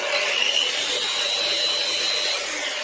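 Steady, continuous hiss of sanding on wood freshly stripped with Biorox, a bright abrasive rush that holds even for several seconds before easing off, close and fairly loud with no talk.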